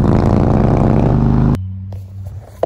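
Harley-Davidson motorcycle on a ride, engine loud and close with a dense rumbling drone for about a second and a half, then dropping abruptly to a low steady idle hum with faint clicks.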